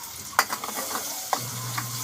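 Onions fry in a pan for adobo with a steady sizzle, broken by a few sharp scrapes and clinks of a utensil stirring them.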